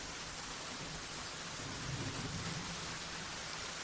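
Steady rain pours down in a storm, a dense, even hiss throughout with a faint low rumble swelling briefly in the middle, no voices.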